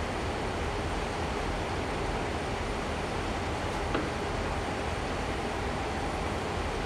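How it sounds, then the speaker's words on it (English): A loaded CSX heavy haul freight train in Train Sim World heard from outside, a steady loud rumble and roar of rolling wagons heading downhill that stays constant throughout. "It's a little bit loud on the outside of the train, but it's real life"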